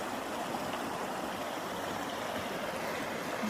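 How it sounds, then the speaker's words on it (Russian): The Gromotukha, a mountain river in East Kazakhstan near Ridder, rushes with a constant broad roar of turbulent water, steady and fairly close, with no voices. "Вот она, горная речка."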